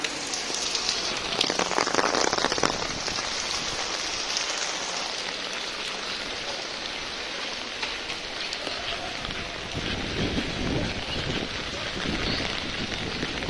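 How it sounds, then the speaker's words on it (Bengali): Heavy, continuous rain pours down on a street crossing, a dense, even hiss of drops striking surfaces that holds steady throughout, with no voices over it. "বৃষ্টি তো অবিরাম হয়েই যাচ্ছে, বৃষ্টি একদম।"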